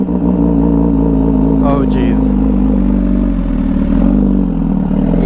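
A motorcycle fitted with a new, very loud Rush custom exhaust runs steadily just after starting a ride, its engine drone continuous and close, with a brief spoken exclamation over it.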